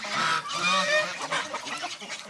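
Geese honk loudly and repeatedly at close range, overlapping calls from several birds forming a noisy, continuous chorus.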